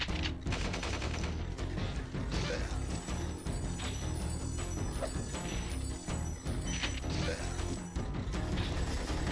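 Norks firing guns in Spyro the Dragon's Twilight Harbor level, a steady clatter of repeated game gunfire and mechanical impacts mixed with layered game sound effects and music, loud and continuous throughout.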